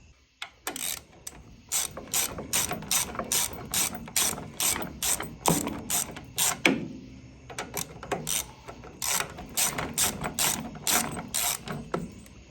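A hand ratchet clicks in rapid bursts of strokes, pausing briefly between runs, while removing the exhaust heat shield from a 2023 Harley-Davidson CVO Road Glide during a Vance & Hines exhaust install; close and loud, no talking.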